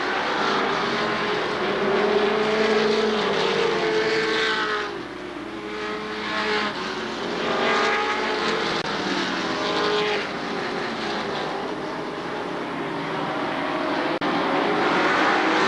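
Race cars roar around a short oval speedway during a 1996 fall classic, engines rising and falling as the pack passes, with a brief dip in loudness midway before the continuous drone returns.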